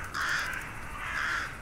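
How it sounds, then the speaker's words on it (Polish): A flock of ravens cawing loudly in a Polish audio drama about ravens taking over a city, two long overlapping harsh calls close by, with no voices. "Ile ptaków!"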